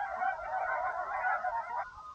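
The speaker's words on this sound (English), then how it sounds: "Those geese must be 20 feet above us. They're loud. Loud honkers." Geese honk loudly overhead above a frozen lake during ice fishing for walleye, a continuous overlapping chorus of calls from birds flying low and close.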